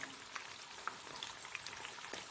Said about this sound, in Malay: Okey, sekarang kita dah goreng. Kita punya sayur-sayur kita.